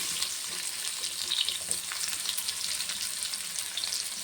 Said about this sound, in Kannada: ಈರುಳ್ಳಿ ಫ್ರೈ ಆಗಲಿ.